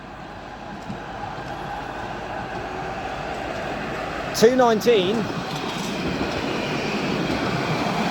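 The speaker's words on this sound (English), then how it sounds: "here's another tram running under electrical power of course." An electric tram in Nottingham rolls past with a steady rumble, its wheels letting out a brief squeal midway.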